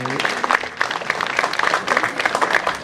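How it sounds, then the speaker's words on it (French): Guests at a religious wedding ceremony applaud, a lively burst of clapping with distinct individual claps audible among the crowd, fairly close, with faint voices mixed in. "Mais elle m'applaudit très fort."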